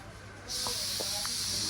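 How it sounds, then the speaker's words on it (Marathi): A pressure cooker bursts into a loud, steady hiss of a whistle after a moment of quiet, continuing unbroken with faint background noise underneath. "कुकरच्या शिट्या वाजायला लागल्या"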